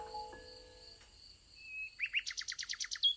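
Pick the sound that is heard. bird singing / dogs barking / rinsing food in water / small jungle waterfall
bird singing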